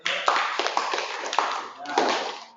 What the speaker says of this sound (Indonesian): Harus tepuk tangan gitu.